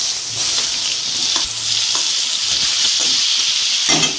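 Chopped onion dropped into hot oil with whole spices, frying with a loud continuous sizzle and hiss, close up, with brief stirring scrapes now and then.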